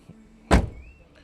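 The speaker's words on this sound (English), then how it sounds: "to gently close the door" A single solid thunk of a Mazda MX-5 door shutting, fairly close, followed by quiet with a faint hum.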